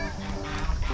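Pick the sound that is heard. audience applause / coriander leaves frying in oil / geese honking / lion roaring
geese honking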